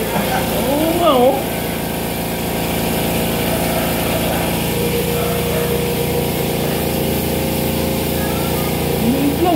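A small air compressor runs with a steady, close mechanical drone throughout, used alongside car buffing and polishing for scratch repair, while people talk over it.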